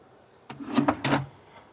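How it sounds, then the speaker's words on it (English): A wooden test drawer on new slides in a tiny house storage bed is pushed and pulled, giving two short sliding and knocking bursts up close. "we built a drawer, test drawer, just to make sure everything was"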